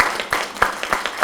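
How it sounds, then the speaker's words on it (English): An audience applauds panelists after a film and video production discussion, with sharp, close hand claps repeating in a quick, uneven rhythm. "Let's give a round of applause to our panelists."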